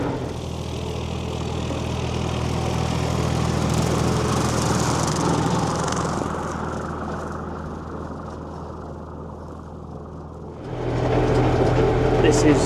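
A farm tractor cuts weeds with a steady engine drone, loud and continuous, easing slightly midway before surging louder again near the end; no one speaks.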